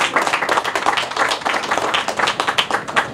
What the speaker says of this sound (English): That deserves applause right there.